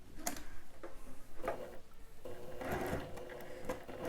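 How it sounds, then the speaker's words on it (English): A sewing machine stitches a dress bodice at a half-inch seam, running in short, quiet bursts of rapid mechanical ticking separated by brief pauses. "we're going to sew at 1/2 inch"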